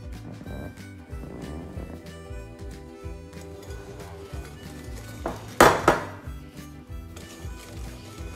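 Choux pastry batter being whisked with the flour mixture in a bowl, giving irregular clinks and scraping knocks of utensil against bowl, with a louder burst of rattling clatter near the end.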